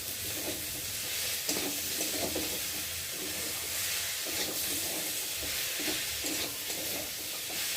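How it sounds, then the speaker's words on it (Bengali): Masala with cumin powder and chopped tomato sautéing in a pan for a Bombay duck fish recipe, a dense steady sizzle with repeated stirring strokes throughout, close up. "মশলাটা একটু ভালো করে কষিয়ে নেব"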